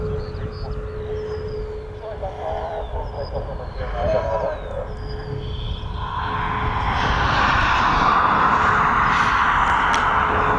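A Donair Flying Club Cessna 152 light aircraft passes at an airport, its propeller engine drone rising from faint to a strong, steady roar, with a voice talking quietly early on.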